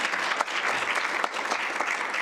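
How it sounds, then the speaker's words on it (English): Steady audience applause for Sharon after a talk, a dense, even patter of many hands clapping at moderate loudness, with no distinct voices. "One more round of applause for Sharon."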